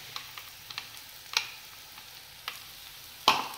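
Ground peanut and coconut paste sautés in a pan for a bitter gourd curry, with soft continuous sizzling and sharp spoon scrapes and clicks at irregular intervals.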